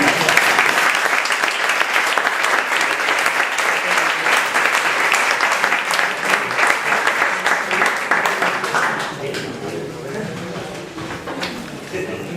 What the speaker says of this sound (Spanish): después de los aplausos a las preguntas